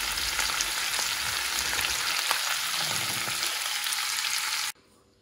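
Cabbage with onion and carrot sizzles and crackles steadily in a hot pan, close up, then the sound cuts off abruptly near the end.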